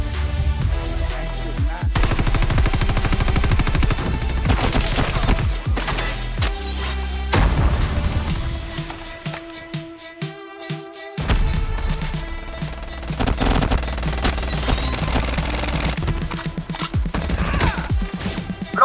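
Gunfire in Call of Duty Mobile, rapid shots layered with loud game music and effects throughout, dipping briefly into a sparser stretch before the dense mix returns.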